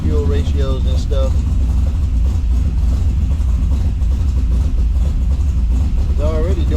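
A 6.0 LS V8 revving under the throttle during tuning, rising and falling in short pulls over a steady loud running drone, with someone talking over it.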